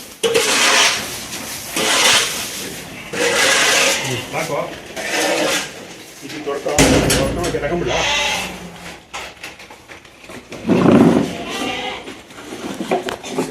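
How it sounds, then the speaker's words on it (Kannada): Sheep on a home farm bleat in repeated bursts, close and loud, mixed with people talking and some clattering. "ನಮ್ಮನೇಲಿ ಕುರಿ ಸಾಕ್ತಿದ್ದಾರೆ."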